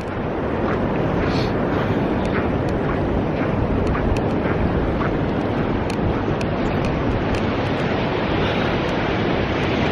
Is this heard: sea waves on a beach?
yes